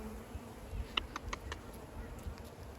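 Honeybees in an opened hive during a beekeeping inspection make a faint, steady buzzing drone, with a few brief closer wingbeat passes standing out over a low background hum.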